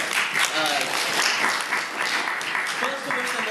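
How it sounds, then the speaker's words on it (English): An audience at a university debate event applauds the interns, a steady dense wash of clapping filling the room, with voices faintly underneath. "let's get a round of applause for our interns"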